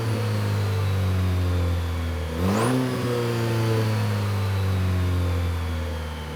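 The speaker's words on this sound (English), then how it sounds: "we actually revved it up a little bit here before going for a drive" A 2024 Chevy Colorado Z71 mid-size truck engine idling steadily, then a single quick rev that rises and settles back to a slightly higher idle, loud and close with no talking.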